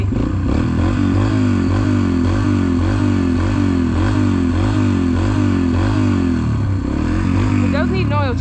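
A 250 dirt bike engine idles with a steady, loud, pulsing throb, then revs briefly near the end.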